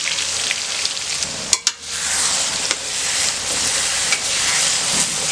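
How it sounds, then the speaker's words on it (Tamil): Ground onion and garlic paste sizzles steadily in hot oil for Madurai-style mutton chukka varuval, a loud continuous fry broken by a brief stirring clatter partway through. "இந்த எண்ணெய்க்குள்ளேயே போட்டு ஒரு வணக்கிக்கலாங்க."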